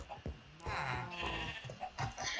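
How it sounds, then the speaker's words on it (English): Sheep bleating in the Minecraft video game, a couple of wavering bleats in quick succession, loud and close, with no talk. "And more sheep."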